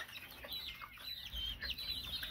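A rooster clucks in short soft bursts against quiet background noise, fairly faint.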